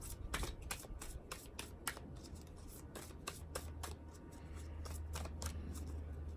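Tarot cards being shuffled by hand, a rapid run of close, crisp riffling flicks and snaps with a soft low hum underneath and no talking.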